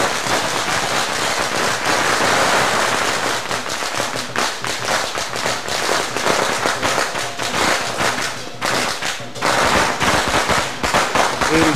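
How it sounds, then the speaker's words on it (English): Rapid strings of firecrackers crackle and pop continuously at a Chinese New Year parade in San Francisco in 1996, dense bursts of sharp bangs going off one after another, loud and close. "Fireworks."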